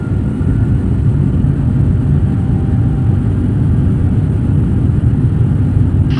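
Aircraft engines held at a set power setting during pre-takeoff checks, a steady, loud, continuous low rumble and whir with no break, close by and alone.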